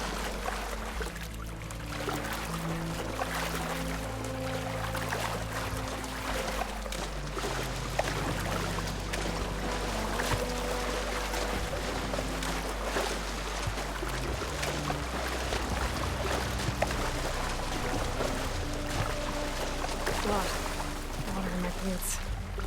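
Splashing and trickling water as a character wades across a river in Horizon Forbidden West, a steady wash of water sound running throughout beneath game music and occasional speech.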